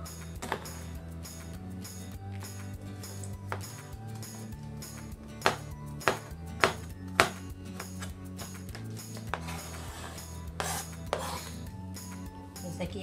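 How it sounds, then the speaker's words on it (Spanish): Knife work on washed tomatoes being diced into small cubes, with a few sharp taps against the board in the middle, mostly soft and partly buried under steady background music. "Empezamos primeramente a picar los tomates, ya están lavados. Los vamos a hacer en pequeños cuadritos."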